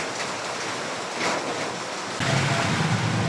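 Strong wind and rain from Typhoon Kristine roar through flooded streets of Lipa City, Batangas, a dense continuous hiss that surges louder partway through, with no voices.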